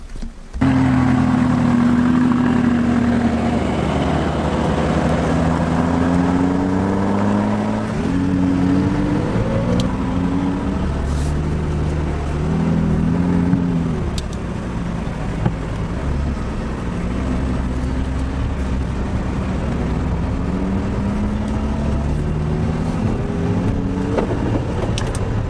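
A purple McLaren 570 GT supercar engine runs continuously while driving on the road, a steady loud drone with rising and falling pitch sweeps as it revs through gears.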